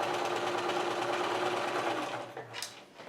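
A sewing machine with a 1/4 inch presser foot runs steadily up close, stitching jelly roll quilt strips straight across, then slows and stops near the end.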